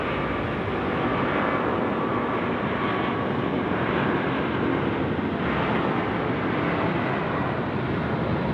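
An airliner at Sydney Airport at night, making a constant, heavy rumble with a faint whooshing edge that stays loud and unbroken throughout, with no voices.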